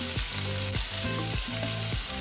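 Argentine red shrimp frying in a pan for seafood paella, a loud, dense, continuous sizzle up close with a few soft knocks from the pan.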